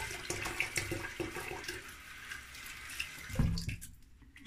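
Water runs from a bathroom tap as a face is wetted during a wet shave, a steady splashing rush through most of the clip that stops near the end, leaving brief quieter sounds.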